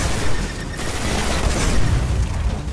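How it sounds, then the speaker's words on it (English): Thrown knives exploding in the video game Destiny, a dense rumbling burst of booms and pops that stays loud and continuous throughout, with no talking over it. "they do explode"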